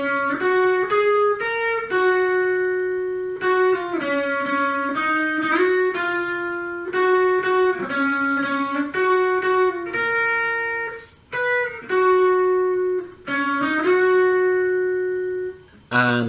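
A clean electric guitar plays a repeating riff from a song, short, distinct notes in a steady rhythm, alone with no voices.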